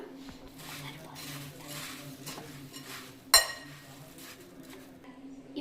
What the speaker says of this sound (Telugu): ఇప్పుడు మనం దీన్ని అంతా బాగా మిక్స్ చేసుకుందాం